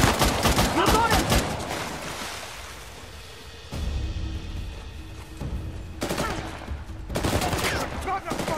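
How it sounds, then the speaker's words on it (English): Bursts of gunfire ring out in a combat scene from the video game Uncharted: The Lost Legacy, with rapid shots clustered at the start and later, mixed with ambient game sound and brief shouted voices. "Open fire!"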